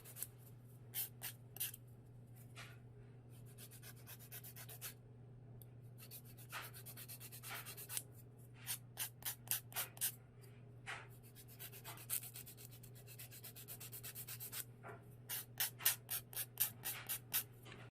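A nail file rasps across fingernail edges in short, quiet repeated strokes. The strokes come in bursts that grow quicker and more regular toward the end, over a faint steady hum.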